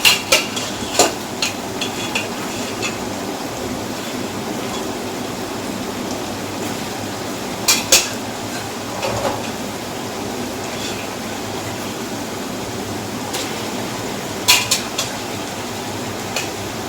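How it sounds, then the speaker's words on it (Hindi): Mutton pieces fry in oil in a pot for laal akhni pulao. A steady, close, rain-like sizzle hisses throughout, broken by a few sharp clinks of stirring. "ये गोश्त तेल में जो है अच्छा सा भुन जाए"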